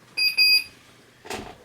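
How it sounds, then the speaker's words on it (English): A custom downloaded horn sound played from a Sense ESS Dual Plus unit, two short high electronic beeps in quick succession, followed by a brief noisy click, close and without talk. "here's the horn I downloaded"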